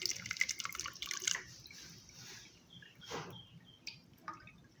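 Water from soaked dates drips and trickles through a strainer into a pot below, with irregular small splashes and faint background noise.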